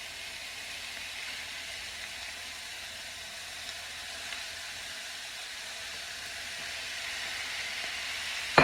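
Ground beef browning in a pan with onions, scallions and Scotch Bonnet pepper for a Jamaican-style lasagna, giving a soft, steady hiss and sizzle throughout, with a brief sharp clatter at the very end.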